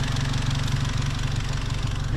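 A tuned Seat Leon Cupra R with a stage 2 remap and about 400 horsepower idles close by, giving a loud, steady, even rumble throughout.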